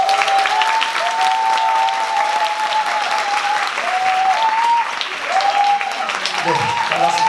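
Warm applause from an audience of about three hundred at a Korean lecture event, welcoming the day's first speaker onto the stage; steady, dense clapping fills the hall throughout, with a few voices and cheers rising over it.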